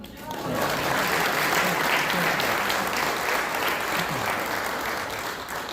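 A crowd at the grand opening of Freedom Village in Robbinsville Town Center South breaks into steady applause after a prayer, a full, sustained round of clapping that swells quickly and holds evenly, with a few voices faintly underneath.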